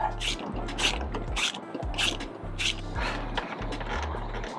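A ratchet tightens a clamp on an aftermarket ARM intake being installed on a BMW F8x with the S55 engine, giving about six or seven short bursts of rapid clicking in steady rhythm, close and fairly loud.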